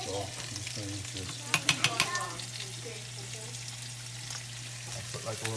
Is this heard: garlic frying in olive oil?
yes